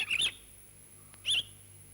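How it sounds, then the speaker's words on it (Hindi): A forest bird gives two bright, sharp chirp bursts about a second apart, clear and fairly close against a quiet background hum. "देख कितनी सुंदर चिड़िया"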